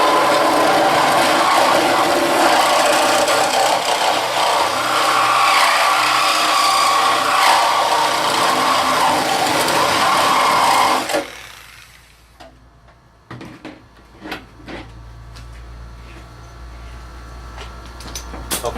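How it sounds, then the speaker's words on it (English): A reciprocating saw fitted with a metal-cutting blade saws through a car body in a body shop, a loud continuous rasping buzz for about eleven seconds, then it stops and only faint scattered clicks and handling noises remain. "a sawzall with a metal cutting"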